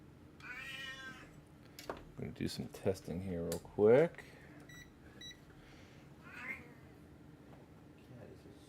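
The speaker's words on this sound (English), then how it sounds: "Cats are so needy these days." A cat meows several times nearby, with a drawn-out plaintive meow early and a louder rising cry midway, while someone speaks quietly between the calls in an electronics workspace.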